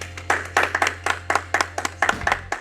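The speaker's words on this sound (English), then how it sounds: "Clapping for myself." A single person claps for themself, about a dozen quick, crisp hand claps in an uneven rhythm, close and fairly loud over a faint background hum.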